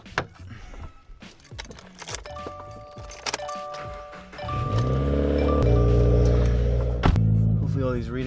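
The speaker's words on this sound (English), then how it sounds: "I'm gonna grab the keys" Car keys for a 2015 Subaru WRX jangle briefly in a few quick metallic rattles before the engine starts and settles into a steady rumbling idle, with a chime and someone speaking.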